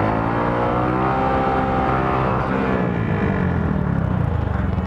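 A Honda Grom motorcycle engine drones loud and close through a stand-up wheelie on a road, holding a sustained buzzy revving tone with slight pitch shifts and wind rush.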